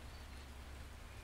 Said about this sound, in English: So much rain now.